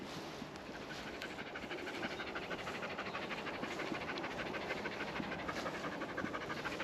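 Quick, rhythmic panting from dogs continues close to the microphone and stays fairly even, with a faint hiss of background noise and no voices.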